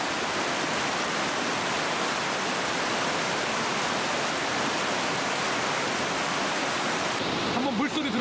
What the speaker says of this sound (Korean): 한번 물소리 들어보세요.